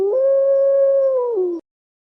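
A wolf howls in one long, steady, close and loud tone that dips slightly near the end and cuts off abruptly, with no other sound around it.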